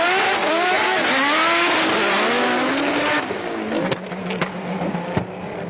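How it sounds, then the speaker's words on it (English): A Mitsubishi Evo time attack race car launches hard at the World Time Attack Challenge, its engine screaming loud and close as revs climb through a couple of shifts, then easing off amid distant crackles and pops. "it was all Evo, lots of noise, but only a couple of shifts"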